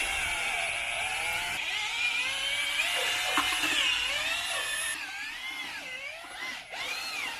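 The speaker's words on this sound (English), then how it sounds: "I'm mixing it in the bucket using a drill and a mixing paddle" Drill fitted with a mixing paddle churning a small batch of stucco in a bucket outdoors, a steady whining motor with wavering pitch as the load shifts, continuous and close.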